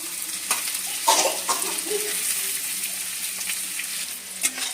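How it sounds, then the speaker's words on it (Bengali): Onions frying in a pan for a Bengali prawn curry, a steady close sizzle with occasional stirring scrapes and light utensil clinks. "পেঁয়াজটা ভালো করে ভাজা হয়ে গেছে"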